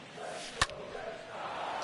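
In MLB The Show 22, a bat makes a single sharp crack as a ball is hit foul, rising briefly above a steady backdrop of crowd noise.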